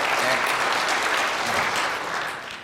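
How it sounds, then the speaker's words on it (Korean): Church congregation applauding during a New Year Sunday service, a dense steady wash of clapping that fills the whole moment and tapers slightly toward the end. "우리 격려 박수 한번 쳐줍시다."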